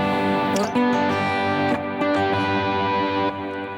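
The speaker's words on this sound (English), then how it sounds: "But as soon as I go to a fairly dirty sound, it's going to sound like this." Electric guitar strums triads with a fairly dirty, distorted tone, several chord changes struck in succession and sustaining, loud and upfront with no voice over it.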